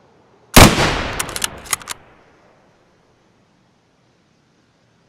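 A single loud gunshot in the shooter game Escape from Tarkov, fired at a distant brick target, followed by a few sharp mechanical clicks and a fading tail, then silence.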